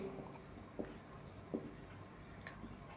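Someone writes out a quadratic maths equation by hand during a class, giving faint, soft scratching strokes with a few brief, slightly sharper taps over a quiet room hum.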